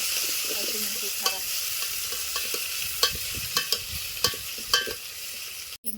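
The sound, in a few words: garlic frying in oil until golden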